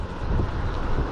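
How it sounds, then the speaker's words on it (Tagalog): Steady, loud wind rushing and buffeting against the microphone during a cold electric scooter ride in Tagaytay, a continuous roar with no voices. "Ewan ko kung naririnig nyo yung hangin"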